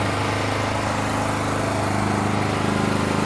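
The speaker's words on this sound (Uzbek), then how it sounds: "generator ishladi mana" A generator engine runs steadily up close, a constant loud chugging drone with a rhythmic pulse and no talking over it.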